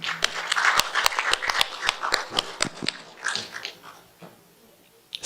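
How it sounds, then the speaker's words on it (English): Audience at a technical event in Sri Lanka clapping for a speaker, a dense burst of sharp, close handclaps that thins out and fades over a few seconds. "Give a big round of applause to Mr."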